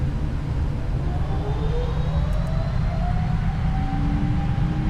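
Boeing 777-200F engines at takeoff thrust in a flight simulator, a loud continuous roar with a low rumble and rising whine, steady and close with no voices.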